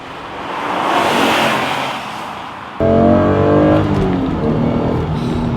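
An Acura NSX sports car engine revs up loudly past 4,000 to 5,000 RPM at full throttle, building to a high rising whine, then shifts into a strong steady mechanical drone.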